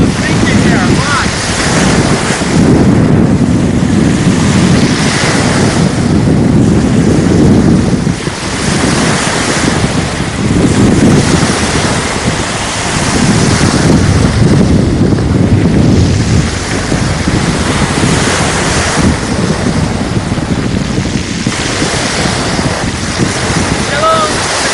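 Waves wash onto the Dead Sea shore in loud, rolling surges under strong gusting wind that buffets the microphone, with a few soft pauses between swells.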